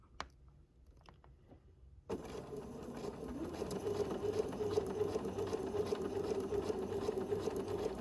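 A Bernina 790 Plus sewing machine runs a steady, continuous stitch while piecing a quilt spool block, starting abruptly after a quiet moment and humming close and loud throughout with a fast, even rhythm.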